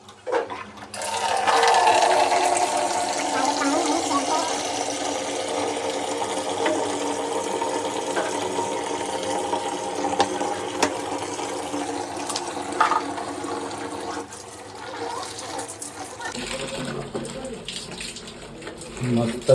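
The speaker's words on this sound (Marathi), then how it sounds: "सर्वात पहिला पाणी भरून घेऊया" Tap water gushing steadily into a bucket for washing a vehicle, a loud, even splashing rush that goes on for a long stretch before cutting off near the end.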